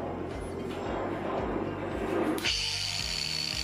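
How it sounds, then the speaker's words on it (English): An angle grinder fitted with a flap disc grinds a lawn mower blade to sharpen it, giving a loud steady whine with a scraping rasp that shifts pitch partway through. "A flap disc is mainly used for finishing metal, but it takes off just enough metal that it's the perfect disc for"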